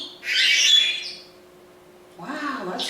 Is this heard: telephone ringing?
no